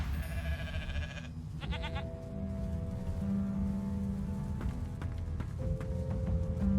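Sheep bleat in the fantasy role-playing game Divinity: Original Sin 2, with a few wavering bleats over a sustained tonal game soundtrack and steady ambient hiss.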